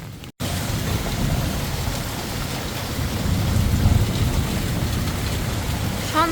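Heavy rain pouring steadily during a thunderstorm on a rainy evening by a pond, a dense continuous roar that swells slightly midway, with no voices.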